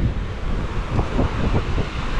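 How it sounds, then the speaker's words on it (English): Ocean waves breaking and gusting wind on a busy Tel Aviv beach, a steady broadband roar with faint rhythmic surges throughout, no talk. "That's because the waves are not amazing and it's kind of windy."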